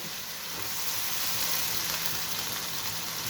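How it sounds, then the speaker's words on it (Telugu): Dried red chillies sizzle and fry steadily in hot oil in a pan, a close, continuous crackling hiss with no voices. "ఎండుమిర్చి, ఇవి ఎర్రగా వేపుకోవాలి."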